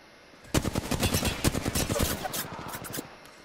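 Rapid automatic gunfire in a video game rattles out in dense, fast bursts for about two and a half seconds, loud and close, after a quiet start.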